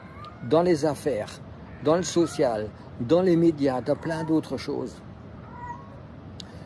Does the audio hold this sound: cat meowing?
yes